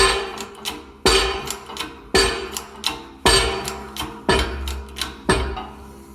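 Bearing being pressed onto a Jeep TJ/LJ Dana 44 rear axle shaft, heard as a series of loud, sharp metallic hammer-like impacts about once a second, each followed by quieter secondary knocks, with no talk.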